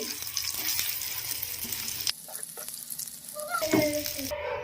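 Sizzling oil crackles as a thick chutney is stirred into a hot tempering, with scraping and clinking of a spoon against the pan, close up.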